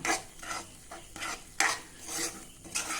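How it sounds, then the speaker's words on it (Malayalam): Lemon pickle with chili powder is stirred and mixed in a bowl, giving short, close scraping and rubbing strokes in an irregular rhythm. "മുളക് പൊടി ഇട്ട് കൊടുക്കുക. അത് വീണ്ടും നന്നായിട്ടൊന്ന് ഇളക്കി യോജിപ്പിക്കുന്നു."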